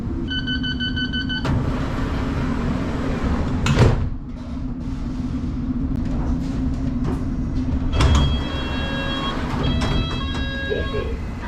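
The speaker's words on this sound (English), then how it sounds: "This is an all-stations Metropolitan line train to Amersham" A London Underground Metropolitan line train runs along with a steady rumble and rattling carriage noise, with beeping door chimes at the start and again later, a loud clunk near the middle, and voices in the background.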